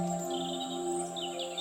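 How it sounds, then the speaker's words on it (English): Birds sing and chirp in high, warbling phrases over a steady insect-like hum, continuous and moderately faint. "And you can also hear the birds singing as they too call out to each other."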